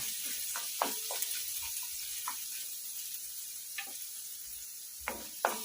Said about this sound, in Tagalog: Add natin ng oil para medyo mabilis yung ating paggisa.